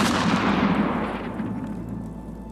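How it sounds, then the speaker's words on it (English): Gunshots ripping into a wooden cabin land as a heavy, booming burst of fire that rumbles and fades over a couple of seconds. "Gunshots ripped into the cabin."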